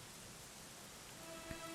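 Steady, soft rain falls in a Dragon Quest XI scene, a quiet continuous patter with no voices and a faint chime near the end.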